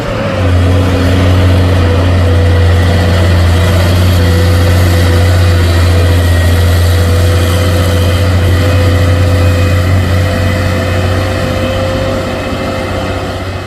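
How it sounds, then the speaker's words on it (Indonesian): A Hino trailer truck hauling a load of iron runs with a loud, steady diesel engine drone that holds level throughout, close by and with no talking. "Trailer Hino bermuatan besi. Op. Kuat juga tenaganya bosku."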